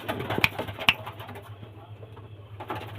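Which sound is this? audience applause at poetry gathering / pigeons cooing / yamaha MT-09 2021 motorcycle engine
pigeons cooing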